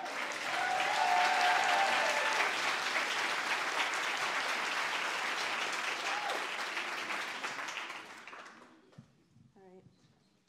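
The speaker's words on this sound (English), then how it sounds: "Can you please stand up so we can give you a round of applause" An audience at a youth program event gives a sustained round of applause for the design team, loud and dense at first, then thinning and fading out toward the end, with a few faint voices audible as it dies away.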